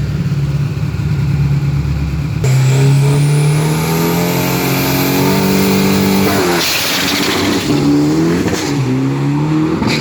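A steel-bodied street truck weighing 1600 kg, with a 3000 cc engine and twin shocks, runs at a 2024 drag race day. Its loud, close engine drone climbs in pitch through repeated revving surges and gear shifts, continuous throughout.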